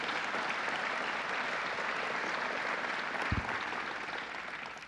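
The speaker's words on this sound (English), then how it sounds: "Let's give him a round of applause" A crowd at a groundbreaking event for a $24.7 million expansion in Ithaca applauds steadily, a dense, even wash of clapping that carries on for several seconds and eases off slightly at the end.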